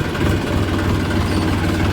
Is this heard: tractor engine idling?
yes